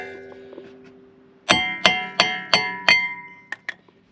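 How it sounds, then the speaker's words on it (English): A hammer strikes a stuck rear brake disc on a Mk6 Fiesta ST150, five ringing metallic clangs in a quick even rhythm followed by two lighter taps, close and clear with no talk. "So I'll give it a couple gentle taps and hopefully that will come off."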